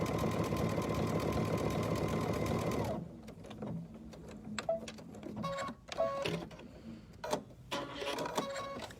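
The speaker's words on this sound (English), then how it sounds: "So now I'm going to lower my presser foot and I'm going to do this stitch." A sewing machine stitching an embroidery stitch for chenille runs with a fast, steady mechanical whir for about three seconds, then stops. Quieter clicks and handling sounds follow.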